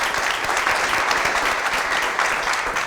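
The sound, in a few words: audience applause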